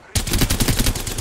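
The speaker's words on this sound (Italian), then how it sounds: "Mi stanno pure sparando dietro" Rapid automatic gunfire in the battle royale game Apex Legends, starting abruptly and running as dense, loud, closely spaced bursts of shots throughout.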